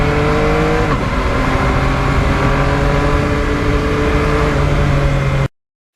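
A Yamaha MT-09 motorcycle engine runs loud and close with a steady, buzzing drone. Its pitch steps once early on, like a quick-shifted gear change, and then the sound cuts off abruptly before the end.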